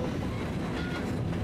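A passenger train runs in the Trainz railway simulator, giving a steady, loud rolling rumble with faint wheel clatter and no speech.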